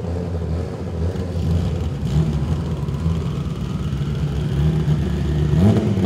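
Pro 4 front-wheel-drive drag race car at a Souped Up 2019 drag meet, its engine droning and rising in pitch as it accelerates, heard at a distance amid steady crowd and track ambience.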